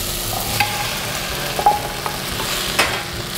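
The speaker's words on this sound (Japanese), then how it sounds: "炒めていきます。" Onion and white leek, later thin-sliced carrot, stir-fry in a pan for a vegetable potage, a loud continuous sizzle broken by several brisk scraping strokes of the utensil, with no talking.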